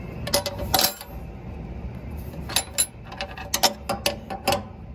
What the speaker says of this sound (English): you flip your wrench over, and you get a little more tweak on it